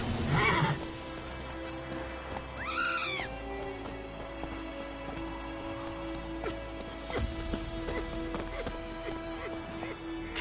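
Roach, a horse in the video game Witcher 3, whinnies loudly near the start, then a rising-and-falling neigh follows, over a steady layer of hooves and game ambience.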